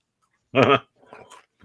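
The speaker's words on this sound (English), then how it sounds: "Oh no, the dog." A dog in the film Under the Rainbow gives a single short, loud bark after silence, followed by a couple of fainter, softer yelps.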